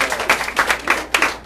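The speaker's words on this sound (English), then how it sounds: "we'll just give them a clap for that." A short burst of clapping from a group, irregular and close, with overlapping hand claps over about a second and a half.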